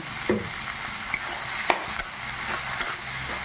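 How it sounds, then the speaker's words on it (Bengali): Banana flower and shrimp curry being stirred in a pan, with a steady low sizzle of frying and a few soft scraping knocks of the spoon against the pan. "কিছুক্ষণ ধরে এইভাবে নেড়ে চেড়ে আবারও কষিয়ে নেব"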